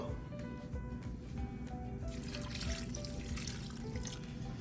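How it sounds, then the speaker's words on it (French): Water runs and splashes steadily into a cooking pot set on a stove, a continuous close pouring sound that grows brighter and fuller about halfway through, with no speech over it. "Je vais mettre un peu d'eau."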